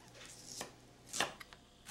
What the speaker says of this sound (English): no fancy chopping required, just slicing the shallot